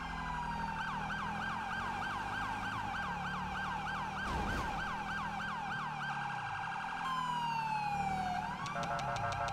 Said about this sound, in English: Come on, you can do it, little ambulance.